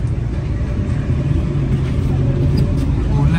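A car engine runs steadily after being started, following repair work on a fault, with a continuous low rumble and a faint idle drone that stays fairly loud and even throughout.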